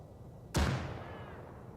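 A single frag grenade explosion in the military shooter Arma 3 during close-quarters fighting, one sharp loud blast with a rumbling tail fading over a second.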